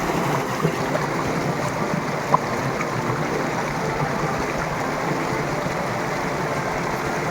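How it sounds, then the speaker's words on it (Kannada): Fast-flowing stream water on the Dudhsagar trek rushes in a continuous, close-up gush, even and unbroken, with one small knock partway through and no talking. "ಈ ವಾಟರ್ ಫ್ಲೋ ಬರ್ತಾ ಇದೆ"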